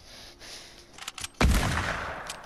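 A sniper rifle shot in Fortnite cracks out with a sharp, loud report midway, followed by a long rolling echo, after a few lighter clicks and taps.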